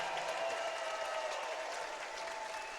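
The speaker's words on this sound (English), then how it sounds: "the crowd is pumped up here tonight" A basketball crowd at a college game cheers and applauds after a three-pointer, a dense, even wash of clapping and voices heard from a distance at low level.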